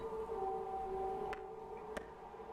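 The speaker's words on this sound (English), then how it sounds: "there appears to be a siren outside" A siren wails outside in a scary video game, a steady faint tone held over a low ambient drone, with two brief sharp clicks breaking in near the end.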